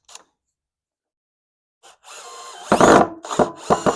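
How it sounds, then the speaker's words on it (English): After a quiet pause, a power drill whirs up and drives a screw into a pre-drilled wooden console table for hairpin legs in a few short bursts, close and loud. "So now we'll get our screw here and get this one in."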